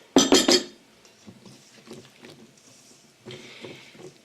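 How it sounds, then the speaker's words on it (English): Wet ingredients being mixed into dry for vegan pancake batter, with a few loud clinks of utensil against a bowl at the start, then softer scraping and stirring taps scattered through the rest. "let's mix the wet ingredients into the dry while my pan is getting to be the right temperature"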